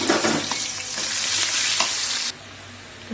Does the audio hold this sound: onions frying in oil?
yes